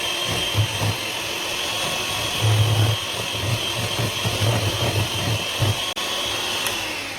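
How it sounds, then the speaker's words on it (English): An electric mixer beats eggs into vanilla sponge cake batter with a steady, loud motor whir that wavers slightly, followed by a brief dropout and a click. "We're gonna mix it for about 2 to 3 minutes, starting from a low speed, gradually going up to high speed"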